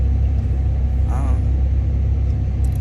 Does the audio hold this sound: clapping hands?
no